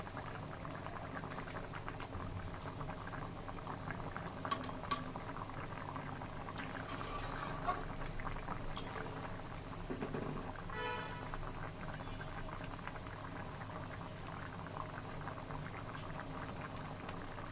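A thin hilsa fish curry broth, tempered with black cumin, bubbles at a low boil in a pot. The simmer is soft and steady, with a few brief clinks and splashes, and no one talks.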